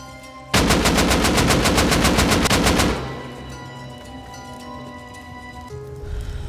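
Explosive ammo gunfire from the video game Rust, a loud rapid burst of shots blasting through doors for about two and a half seconds, then dropping away to quieter background noise.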